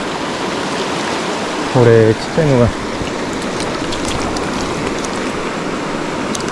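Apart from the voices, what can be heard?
rain falling by a river during ayu fishing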